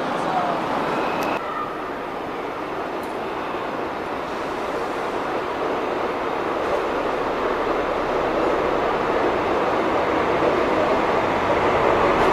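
A class 112 locomotive pulls a train through Hamburg Hauptbahnhof, giving a loud, continuous rumble and rolling roar that holds steady for the whole stretch.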